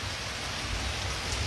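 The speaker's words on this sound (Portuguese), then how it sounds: "vendo a chuva" Rain falls steadily at a house in Macaúbas, Bahia, a dense even hiss of drops on surfaces with a low rumbling undertone, continuous throughout.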